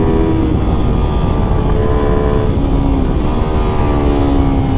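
A Kayo motorcycle engine drones steadily while engine braking on a small race track, a sustained buzzing tone with slowly shifting pitch, loud and close with no pauses.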